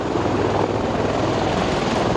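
A helicopter lands on the warship USS Green Bay, its rotor and engine giving a steady, loud, dense roar that fills the whole moment without any voices.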